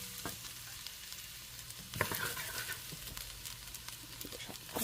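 Garlic fries in hot oil as a tempering for broccoli soup, a steady close sizzle with occasional utensil clinks and stirring.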